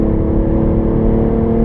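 A car engine strains and revs under acceleration on the Nürburgring Nordschleife, loud and close with a steady droning whine, heard alone.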